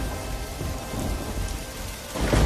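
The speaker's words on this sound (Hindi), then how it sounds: "यह तेज बारिश लगातार 4-5 दिन से अपना कहर बरसा रही थी।" Heavy rain and rumbling thunder as a sound effect in an animated Hindi moral story about cold weather, a steady loud downpour with a deep thunder roll swelling near the end, no voices.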